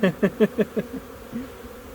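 Honey bees buzzing and fanning at a hive during a spring inspection, heard as a run of about six close, pulsing buzz bursts that weaken and trail off into a softer hum.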